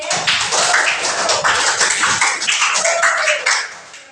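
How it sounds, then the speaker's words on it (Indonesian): A grade 2C class claps together in a classroom, with a steady patter of hands that stays close and fairly loud for a few seconds before trailing off. "Kasih tepuk tangan untuk kelas 2C."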